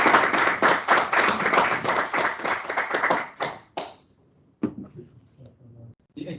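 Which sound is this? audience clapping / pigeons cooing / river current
audience clapping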